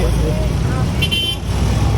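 Road traffic near Kalamba with a loud, close rumble of engines and one short horn toot in the middle, while people talk over it.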